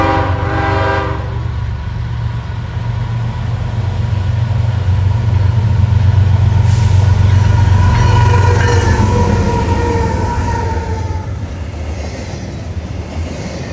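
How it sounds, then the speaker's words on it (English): A heavy Union Pacific intermodal trash train bound from Seattle to the Gilliam County landfill on the Condon Branch rumbles past loudly and steadily, with a sustained horn blast rising out of the rolling roar. "as seen by this Seattle to Gilliam County trash train."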